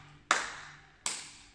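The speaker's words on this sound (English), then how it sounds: "Let's clap our hands, huh?" Two sharp hand claps, evenly spaced under a second apart, close and crisp with short ringing decays, at a home parent-and-child gym music class.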